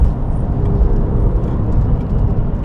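Steady low engine drone and road rumble from inside a Porsche 996 GT3 RS with manual transmission, loud and continuous with no clear shifts.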